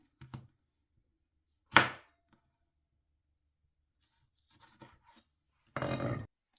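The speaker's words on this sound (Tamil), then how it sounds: "இப்போ வந்து தக்காளி பழம் வெட்டியாச்சு" Knife slicing garden tomatoes into pieces on a cutting board for tomato pickle, a few sharp separate chops and cuts with quiet gaps between them, close and alone.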